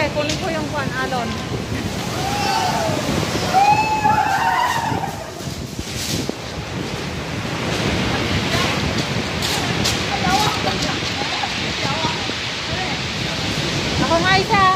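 Surf at Shek O beach in Hong Kong rolls in as a broad, steady wash of breaking waves, loud and close, with people chatting and calling out over it.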